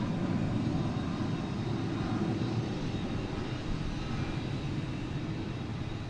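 An American Airlines jet coming in to land on runway 36 left at DFW, heard as a steady, distant broadband engine roar that stays even throughout with no voices.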